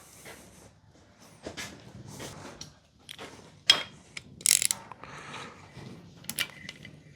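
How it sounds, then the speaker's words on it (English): A ratchet wrench turning bolts during an LS 6.0 engine swap into a Chevrolet Chevette, with bursts of clicking ratchet strokes and metallic clinks separated by short pauses, close and without talking. "I actually grabbed a ratchet this time too"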